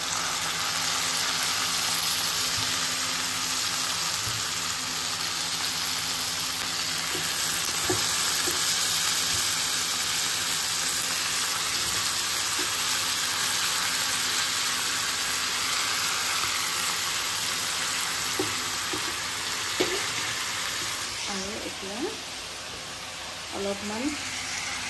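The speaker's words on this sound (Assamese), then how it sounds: "আগতে চিকেনখিনি দি চিকেন আৰু পিঁয়াজ ভাজি ল'ম" Chicken pieces and onions frying in a pan at home, a continuous loud sizzle with occasional stirring scrapes and faint clinks toward the end.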